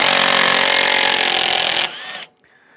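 A Parkside cordless impact driver from Lidl, running on a 4Ah battery, drives a screw with a loud, steady high-pitched whirring buzz that stops abruptly, leaving a brief fading whine and then near silence.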